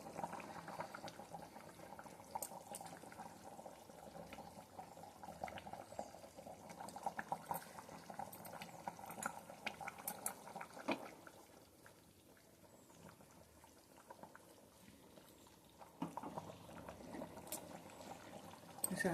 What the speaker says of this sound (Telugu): ఈసారి అలాగా మళ్ళీ ఒక 5 నిమిషాలు అలా మరగనిద్దాం.